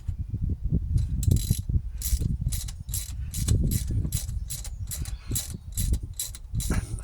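A torque wrench tightening a spark plug in a Porsche Boxster 986 engine gives a run of sharp, close mechanical clicks in irregular bursts over a low rumbling background.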